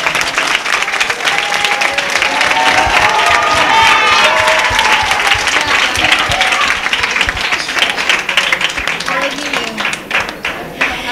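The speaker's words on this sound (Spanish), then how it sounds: "Un aplauso para Grace." A gymnastics audience at a 1987 rhythmic gymnastics event in Durango, Bizkaia, breaks into loud, sustained applause and clapping, a dense crowd sound lasting throughout with some voices mixed in.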